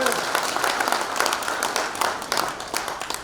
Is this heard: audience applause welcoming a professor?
yes